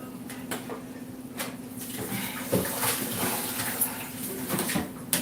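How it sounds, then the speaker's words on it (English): Water pours out of a pot of peas in a steady rushing splash, with a low hum and a few light knocks of the pot underneath. "Let me drain this water."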